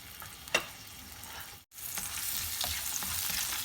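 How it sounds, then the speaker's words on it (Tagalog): Garlic sautéing in oil in a frying pan gives a steady, close hiss of sizzling. A brief pop comes early, then a short silent break, and the sizzle returns fuller and brighter. "Lagyan lang natin ng mantika ang ating kawali. Igisa natin ang ating bawang"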